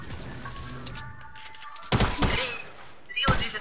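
Gunshots in a multiplayer video game, two sharp, loud bursts about a second and a half apart, with fainter game sounds and muffled voices around them.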